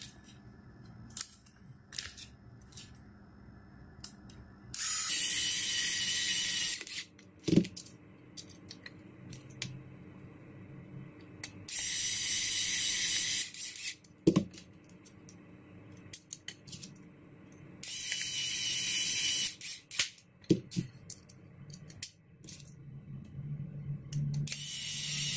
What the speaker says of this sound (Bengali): এই 4টা নাটই লাগাই দিব